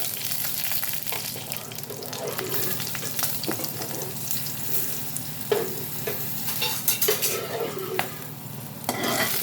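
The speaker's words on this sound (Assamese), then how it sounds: "পাঁচফোৰণ ফুটিব ধৰিছে। আৰু এতিয়া ইয়াত মই মোৰ জলকীয়া 2টা দি দিম।" Panch phoron spices and two dried chillies sizzling and popping in hot oil, a continuous crackling fry with scattered sharp pops and occasional stirring scrapes, close and steady.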